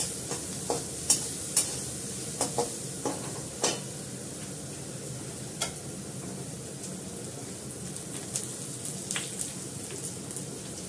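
Food fries in a pan with a constant low sizzle while a spatula stirs and scrapes, giving irregular sharp clicks and knocks close by throughout.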